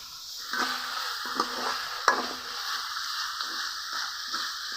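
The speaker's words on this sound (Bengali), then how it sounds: "সামান্য একটু জল দিয়ে কিছুক্ষণ কষিয়ে নেবো আর পুড়ে যায় না কালারটাও সুন্দর আসবে" Spice paste with a little water frying in a pan for a fish curry, a steady close sizzle broken by several rhythmic scraping strokes of a spoon, with one sharp clink and no talk.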